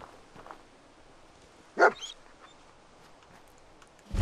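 In the video game Fallout 4, a dog gives a single short bark at mid-distance over a quiet background, with faint rustles and a thump near the end.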